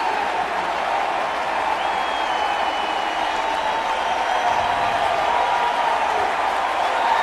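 Baseball crowd fired up after a play at the plate with a high tag by catcher Olivo, a steady roar of cheering and applause held at an even, loud level throughout.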